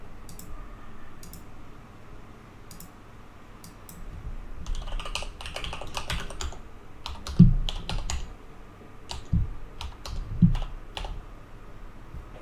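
Computer keyboard typing in bursts of quick clicks, entering an IP address into a configuration screen, fairly close and clear over a quiet background hum.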